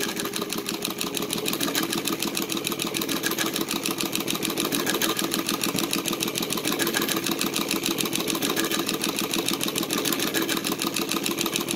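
A Cornely chain stitch embroidery machine, driven by a 3/4 horsepower servo motor with a 45 mm pulley set to speed 1500, stitches on denim with a fast, steady mechanical chatter that is loud and continuous throughout.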